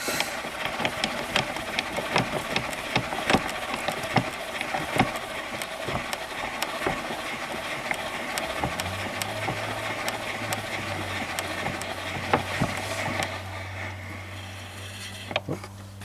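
An HMV 101 portable gramophone with a 410 motor is wound by hand, giving a steady run of regular ratcheting clicks from the crank, later joined by a low mechanical hum.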